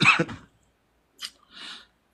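A short burst of close coughing, then after a pause two softer, breathy coughs or throat-clearing sounds.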